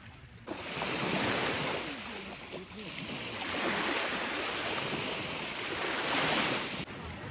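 Sea surf on a Black Sea beach in late summer near Chornomorsk, rolling as a steady, loud wash of breaking waves with heavy wind rumble across the microphone, and a voice faintly present beneath it.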